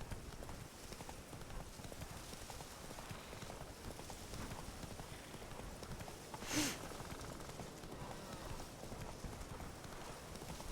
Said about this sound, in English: We stole someone else's horse.